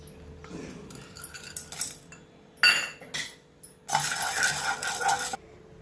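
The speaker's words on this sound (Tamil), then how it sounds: "அடுத்தது கடலைப்பருப்பு வறுக்கலாம்." Chana dal (Bengal gram) dry-roasting in a pan, heard as close, fairly quiet rattling and clinking of the lentils and a spoon against the metal, coming in separate scraping bursts that grow busier toward the end.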